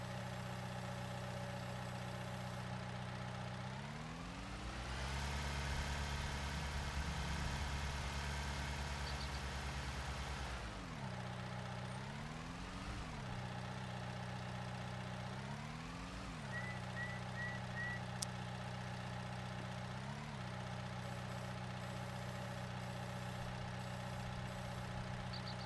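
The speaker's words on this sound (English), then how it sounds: "And when I come back with my tractor," A tractor engine idles steadily in Farming Simulator 19, a low continuous drone that revs up and settles several times, with brief reversing beeps in between and no talking.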